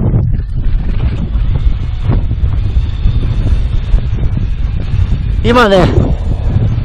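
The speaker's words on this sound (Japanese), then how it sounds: "結構風がね、なんか強くなってきちゃって" Strong winter wind on the Oshitate ridge of Mt. Bandai buffets the microphone with a constant low roar and gusty rumble, while a person speaks briefly over it.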